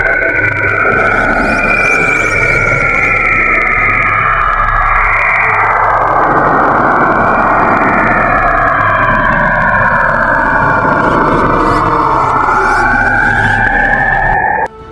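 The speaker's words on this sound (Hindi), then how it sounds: "कैसिनी स्पेसक्राफ्ट द्वारा रिकॉर्ड की गई शनि ग्रह की अद्भुत ध्वनियां।" Saturn space sounds recorded by the Cassini spacecraft: loud, unbroken eerie sweeping tones that rise and fall like a siren over a dense roaring wash, running alone for the whole stretch.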